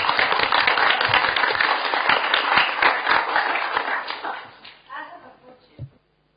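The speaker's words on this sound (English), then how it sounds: "Give a round of applause." A crowd at a city council committee meeting claps steadily for a few seconds, then the applause thins and dies away into a brief murmur.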